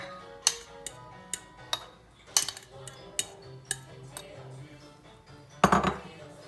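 Cream cheese mixture for an Italian cheesecake beaten in a bowl, sharp clinking taps of a utensil against the bowl at an irregular pace, close and alone.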